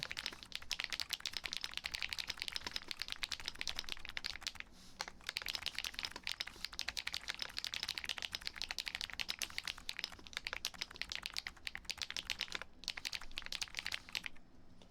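Steady, rapid clicking of a computer keyboard being typed on, close and fairly quiet, continuing almost unbroken with a couple of brief pauses and no talking.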